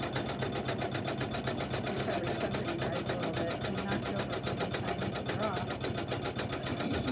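Sewing machine running steadily through satin stitches, laying foundation stitches before dense zigzag, with red top thread and a black bobbin; a continuous close, loud mechanical whir with fast regular needle ticks throughout.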